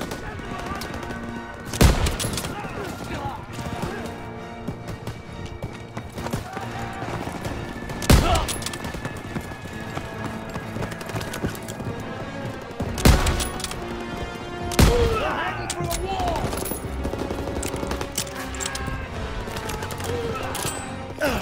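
Gunfire fills a Call of Duty WWII battle, with repeated rifle shots and machine-gun bursts in a continuous firefight, several loud cracks standing out near and the rest more distant.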